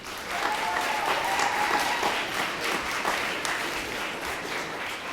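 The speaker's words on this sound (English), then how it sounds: "So I'd like a big round of applause for Carolyn Olson." An audience at a 2016 SouthRidge performance gives a big round of applause for Carolyn Olson, dense and loud, sustained clapping from a crowd throughout.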